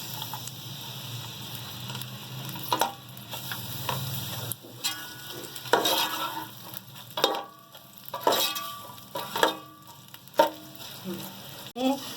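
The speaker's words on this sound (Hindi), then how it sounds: "ये जो मेरे पास 1 पाव प्याज कटे हुए हैं, ये हम गोल्डन ब्राउन करके निकाल लेंगे।" Chopped onions frying in oil until golden brown for Delhi-style chicken korma, a steady close sizzle with frequent stirring clatters and scrapes of a spoon against the pot throughout.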